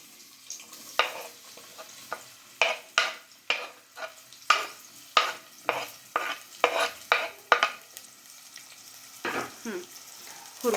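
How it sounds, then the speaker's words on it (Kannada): Onion and coriander leaves hit hot oil in a home tempering for snake gourd and chana dal curry, giving sharp sizzles and repeated stirring scrapes in an irregular rhythm, close and fairly quiet, with no talk. "ಒಗ್ಗರಣೆಗೆ ಅಮ್ಮ ಈಗ ಈರುಳ್ಳಿ, ಕೊತ್ತಂಬರಿ 2 ಹಾಕ್ತಿದ್ದಾರೆ."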